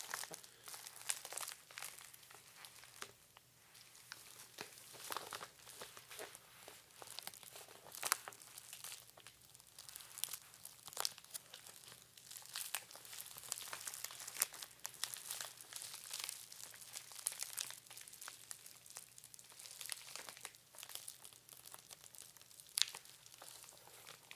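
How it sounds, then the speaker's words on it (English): Steady close-up crinkling and rustling of thin packaging material from a microphone unboxing, continuous with occasional sharper crackles, no talking. "I love packaging like this that you barely even have to touch it and it makes interesting noises."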